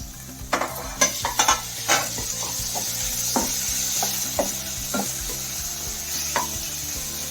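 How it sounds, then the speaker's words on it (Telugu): Chopped tomatoes fry and sizzle in a pan with ginger garlic paste for a homemade mutton curry, a steady close hiss broken by scraping stirs and spatula knocks against the pan, with no talk. "ఇలా అల్లం వెల్లుల్లి పేస్ట్ వేగిన తర్వాత కట్ చేసి పెట్టుకున్న 2 టమాటాలు కూడా యాడ్ చేసుకోవాలి."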